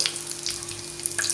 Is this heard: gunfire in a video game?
no